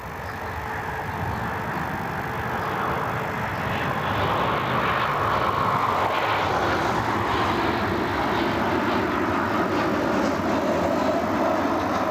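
A Frontier airliner taxis out for departure at Cleveland Hopkins airport, a steady broad engine roar holding at constant loudness throughout with no voices.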